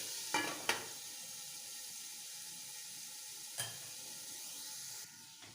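Pumpkin cooks and fries in its own water in a covered pan, with a steady soft sizzle near the microphone and a few sharp clinks of the lid or spoon.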